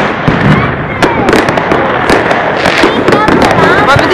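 Fireworks show at a 2010/2011 celebration, with dense, continuous crackling and popping bursts filling the air at close range, loud and unbroken throughout.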